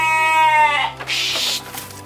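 A goat gives one loud, close, wavering bleat, then quieter rustling and hissing noises follow.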